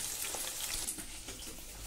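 Chicken pakora pieces fry in hot oil with a steady, crackling sizzle heard up close, brief and without voices.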